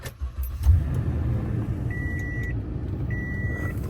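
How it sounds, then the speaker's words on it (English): Toyota Tundra pickup truck being started after an A/C blower motor replacement, a short engine turnover and idle with two electronic chime tones ringing in the cab. "But let's start the truck,"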